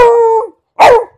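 A puppy gives two sharp, close barks separated by a short pause, the first slightly drawn out and the second higher and more abrupt.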